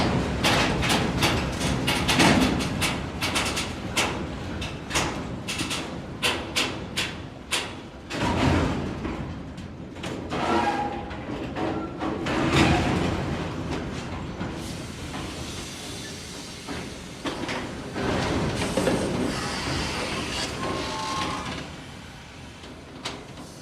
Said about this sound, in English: a double-stack container train drifted across 3 tracks and struck a parked tanker